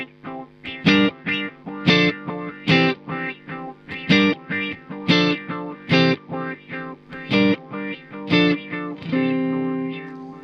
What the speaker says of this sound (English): We can apply an LFO with different waveforms to the delay type.